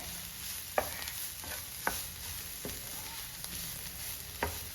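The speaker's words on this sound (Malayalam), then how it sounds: "നമുക്ക് ഇതൊന്ന് ഇളക്കി കൊടുക്കാം" A spice paste stirred with chopped beans in a pan for a Kerala-style beans and egg thoran: a soft steady sizzle with a spoon scraping and knocking the pan every second or so, no talking.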